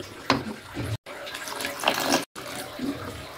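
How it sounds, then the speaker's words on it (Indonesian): Water, 700 ml in total, pours into flour dough for pempek in a kitchen, a steady close splashing stream that runs through the clip with two brief gaps. "Dan kita tambahkan air sebanyak 700 ml."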